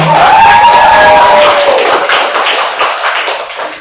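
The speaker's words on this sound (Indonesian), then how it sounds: "Tepuk tangan dulu." An audience at a school presentation on positive culture claps their hands for a teacher from SMA Negeri 1 Kabupaten Tangerang, a loud, close burst of clapping that thins out toward the end.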